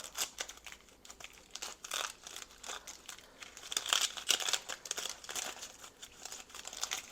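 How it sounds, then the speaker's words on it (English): Dry, papery skin crinkles and crackles as it is peeled off an onion, a continuous close-up rustling with brief sharper tearing bursts. "I've peeled up one, so you have this skin that's kind of ready to come off"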